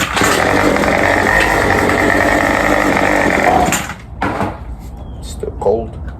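A Remington RM2510 two-stroke chainsaw engine being pull-started with the choke on: a loud, steady engine roar for several seconds, then cutting out to quieter handling noises.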